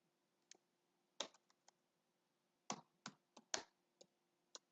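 Sparse bursts of keystrokes on a computer keyboard in a quiet room, a few isolated taps then a quicker cluster of clicks, close and crisp with a faint steady hum underneath.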